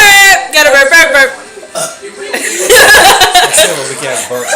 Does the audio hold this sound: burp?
yes